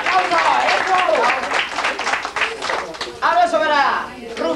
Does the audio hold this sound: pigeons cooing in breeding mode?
no